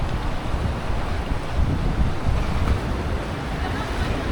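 Strong surf pounds steadily on Ba Tonying Beach in Northern Samar, Philippines, a continuous broadband roar of breaking waves mixed with gusty wind buffeting the microphone, with no voices over it.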